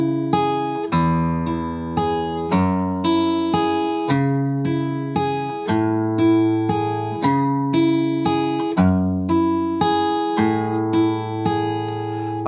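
An acoustic guitar plays the fingerpicked part of a song, plucked notes and ringing chords repeating in a steady rhythm, close and clear with no voices.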